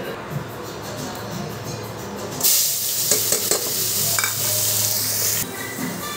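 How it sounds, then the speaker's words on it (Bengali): Onions frying in a hot wok, a loud bright sizzle that erupts partway through as they hit the oil, with occasional stirring clatter and a low background hum, no speech. "মাছ ভাজা শেষ, এখন আমি পেঁয়াজ ভেজে নেব।"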